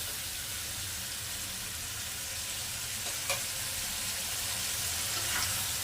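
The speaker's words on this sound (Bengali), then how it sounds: "পেঁয়াজটাকে একটু ভাজা ভাজা করে নেব" Ground onion paste fries in hot oil for a Bengali boal fish tel jhal, giving a steady, close hiss of sizzling with a couple of faint stirring clicks and no speech.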